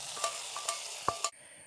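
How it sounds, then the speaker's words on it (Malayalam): Shallots and curry leaves tempering in hot oil, a bright crackling sizzle with several sharp pops and stirring scrapes, close up, before the frying hiss suddenly cuts to a quieter tone, no voices. "ചെറിയുള്ളിയൊക്കെ മൂത്ത് വന്നപ്പോൾ കുറച്ച് കറിവേപ്പില അങ്ങോട്ട് ഇട്ടു."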